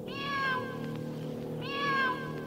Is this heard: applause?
no